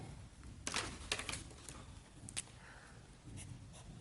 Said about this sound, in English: I'm going to write it this way